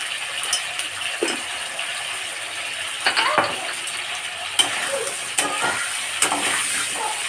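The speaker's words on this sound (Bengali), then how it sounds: "আমি ঢাকা দিয়ে আলুটাকে লাল লাল করে ভেজে নিচ্ছি" Potatoes sprinkled with salt and turmeric fry in a covered pan, giving a steady close sizzle with occasional brief stirring scrapes.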